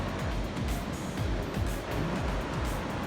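Sea waves roll and wash at dawn on a fishing outing, a continuous rushing surf with repeated low swells, fairly close and steady and with no voices.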